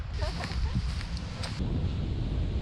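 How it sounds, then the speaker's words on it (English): Strong wind beside a rough river buffets the microphone in gusty, rumbling bursts, with a brief voice cutting through early on. "Also, it's so windy."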